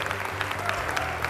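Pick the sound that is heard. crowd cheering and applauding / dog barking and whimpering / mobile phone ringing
crowd cheering and applauding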